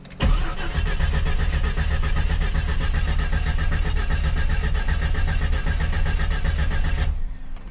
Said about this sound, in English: Crank engine, okay.